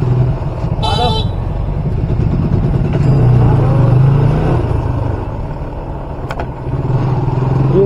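A traffic jam at the Barua railway gate in Beldanga, with car and motorcycle engines idling and revving close by, several horn toots rising above the steady road noise.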